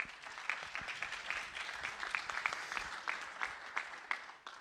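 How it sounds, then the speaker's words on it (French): Steady applause from a conference audience at a French renewable-heat and solar-energy event, a dense patter of many hands clapping at moderate level without a break, with no voices over it. "On peut l'applaudir."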